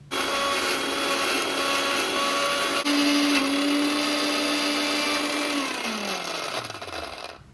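An electric kitchen blender grinds fried fish heads into a mash, whirring loud and steady up close before the motor winds down and its pitch falls away at the end.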